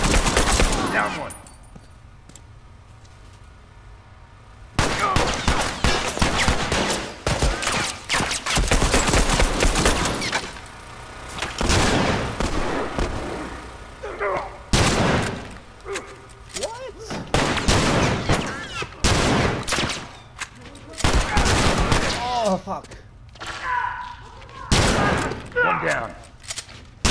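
Rapid automatic gunfire in a first-person shooter video game rattles out in dense, loud bursts with short pauses between them, while a player talks over some of the shooting.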